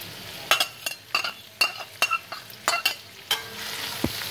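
Shredded cabbage, capsicum and carrot stir-fry in a hot pan for egg fried rice, a steady sizzle broken by repeated sharp scrapes and clinks of a spatula against metal, close and fairly loud.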